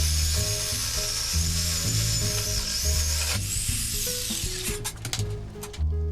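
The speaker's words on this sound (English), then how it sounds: "And then we're going to start cutting this thing with the jigsaw." A jigsaw cuts through aluminum for pedal straps, giving a loud, steady high-pitched buzzing whine with rhythmic chattering underneath that turns ragged and stuttering toward the end.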